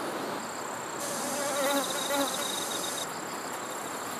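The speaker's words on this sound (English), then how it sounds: "In order to collect honey from a bestort, a honeybee needs to be skilled in hovering." A honeybee hovers at flowers, its continuous close buzzing drone rising and falling slightly in pitch as it holds position in the air.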